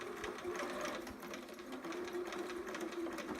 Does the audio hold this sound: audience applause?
no